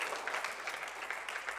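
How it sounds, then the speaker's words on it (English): A church congregation claps together in steady, dense applause during a Sunday service, an even wash of hand claps with no voices standing out. "Let's give them a round of applause."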